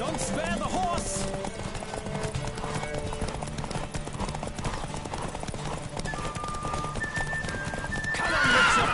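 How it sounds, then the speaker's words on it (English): Horse galloping flat out in a race in The Witcher 3 on PS4, with rapid, steady hoofbeats close up, a whinny near the start and a rush of wind swelling at the end. "Don't spare the horse."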